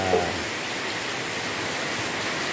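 Heavy rain driven by wind, a steady, loud, close hiss of downpour that fills the whole stretch without pause.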